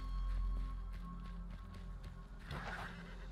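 A horse in the Western video game Weird West whinnies and clops its hooves, a sustained neigh near the end over a faint, steady game backdrop, with no talking.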